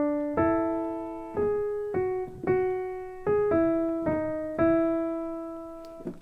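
Piano playing the first two bars of a song as a slow melody of single struck notes, about eight to nine evenly spaced, each decaying before the next, clear and close with no talk.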